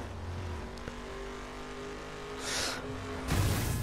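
Racing cars in The Crew video game roar steadily with engine drone, a brief whooshing pass midway and a louder surge of engine and tire noise near the end.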